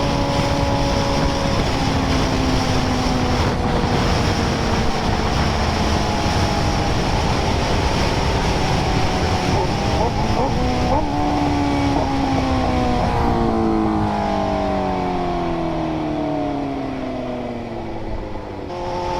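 A motorcycle rides along the road on a cool day, its engine a continuous loud drone with pitch rising and falling through gear changes, overlaid by constant wind rush at close range.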